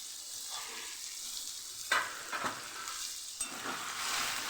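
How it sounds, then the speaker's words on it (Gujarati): Potatoes with turmeric and salt fry in oil for a cabbage-potato curry, a continuous sizzle broken by several stirring scrapes and bursts of louder hissing; no talking is heard. "બટેટા એકદમ તેલથી તળાઈ જાય એટલે તેલની કોટિંગ થઈ જાય"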